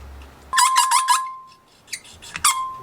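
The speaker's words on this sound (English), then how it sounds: "We'll stick the valve in there, get your trusty valve grinder." A hand valve lapping tool turns a valve against its seat in a Yamaha YZ250F cylinder head, giving repeated high, squeaky grinding strokes in short bursts that fade in and out, close up with no talk.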